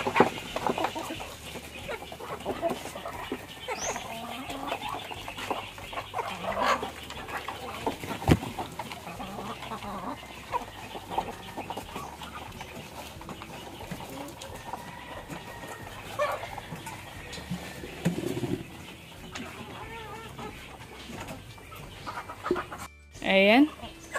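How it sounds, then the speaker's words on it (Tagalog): Backyard chickens and ducks at feeding time, with clucking and fowl calls running through a busy outdoor scene while someone talks over it and a dog is heard briefly. "Pakain tayo ng ating mga alagang bibi at manok"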